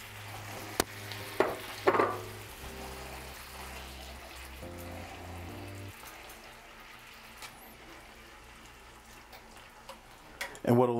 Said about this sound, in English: we're gonna go ahead and drop the noodles in here